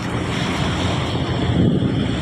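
Strong wind buffets the microphone over the rushing wash of sea waves, a constant loud roar with no voices.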